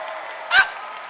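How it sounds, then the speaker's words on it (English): A church congregation claps together during a healing sermon, a steady wash of hands lasting about a second with one brief louder swell in the middle. "Somebody give him some clap offering here."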